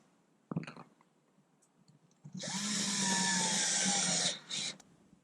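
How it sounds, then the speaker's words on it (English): A power drill drives a screw into the fiberglass footwell of a Cape Dory 27 sailboat during a refit: a few faint clicks, then a loud, close, steady whir for about two seconds, a brief stop, and a short final burst. "I'm going to put some screws in here to hold it all together and tighten it up"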